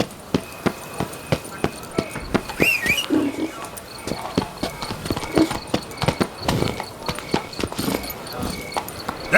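Roach the horse galloping in The Witcher 3: Wild Hunt, Blood and Wine, a rapid, regular clip-clop of hooves close up, with faint game sounds beneath.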